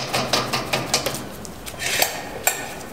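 Light metallic clinks and taps as a metal washer is fitted onto the arbor of a drum turning lathe, a handful of sharp small contacts spaced irregularly, close and fairly quiet, with no talk.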